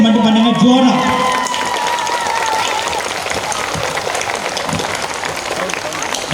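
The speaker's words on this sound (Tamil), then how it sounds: "உற்சாகமான ஒரு கைத்தட்டல், ஒரு 10 கைத்தட்டு மட்டும் பண்ணுங்க ஜோரா" An audience at a school annual day function claps enthusiastically in a dense, sustained wash of applause, while a voice speaks over the start.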